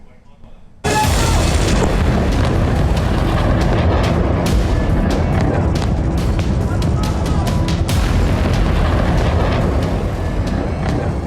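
A sudden, very loud blast erupts and continues as a sustained roar with repeated booming bursts and crackling, like nearby explosions, from military strikes in the Israel–Iran conflict.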